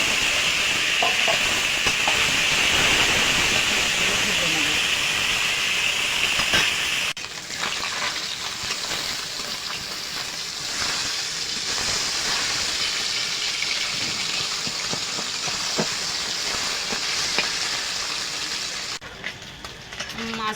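Salted maya fish drops into hot oil in a pan and fries with a loud, steady sizzling hiss. The sizzle dips and sputters partway through, and light kitchen clatter sounds underneath.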